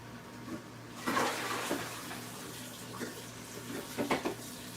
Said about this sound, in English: I just rinsed that bowl out that I used in the sink